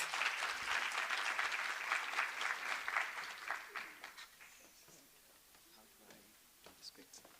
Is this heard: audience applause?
yes